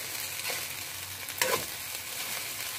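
Fried rice with hot dog sizzles steadily in a hot pan while a utensil stirs and scrapes through it, with one sharper clatter partway through and no talking.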